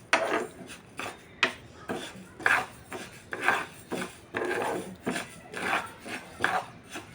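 Finger millet roasts in a pan on a stove and is stirred in regular strokes. Each stroke makes a dry, gritty rasp and scrape against the metal, repeating about once per second, close and clear.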